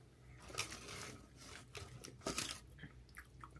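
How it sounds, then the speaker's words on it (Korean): Crispy battered fried food with edible bone is chewed up close, giving loud, uneven crunches and bites with brief pauses between them and no talking. "되게 바삭바삭하다. 뼈인데 씹을 수 있다."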